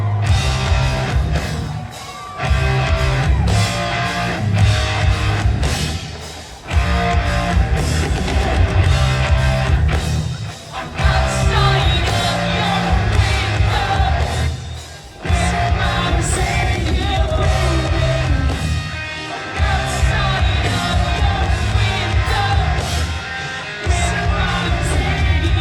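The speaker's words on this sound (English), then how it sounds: "Mosh pit." At a concert, a mosh pit crowd yells and shouts over loud, dense music, the noise pulsing with brief dips every few seconds.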